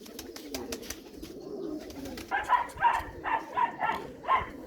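A Ferozpuri pigeon coos in a regular series of six or so rhythmic calls close by, following a quieter stretch of faint background noise, with no talk.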